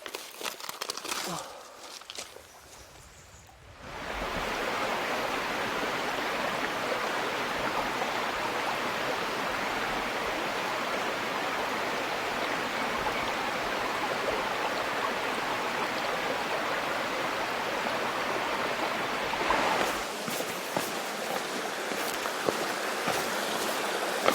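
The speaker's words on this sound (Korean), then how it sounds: "제1폭포" A waterfall in Naeyeonsan roars in a steady, dense rush of falling water that fills the scene, after a brief quieter moment at the start.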